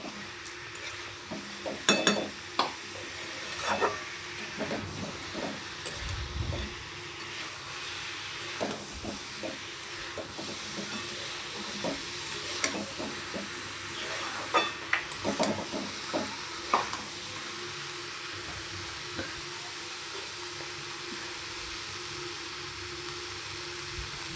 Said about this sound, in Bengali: ভালো করে মশলা শুনে কষে নিচ্ছে